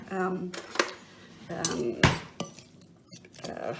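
Mango salsa stirred in a bowl with a spoon, giving clinks and scrapes against the bowl in short bursts, a voice speaking alongside.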